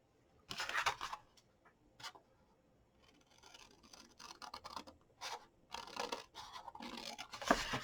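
Scissors snipping through paper card in a series of short, close scratchy cuts, grouped in bursts with brief pauses between them, quiet with no talking.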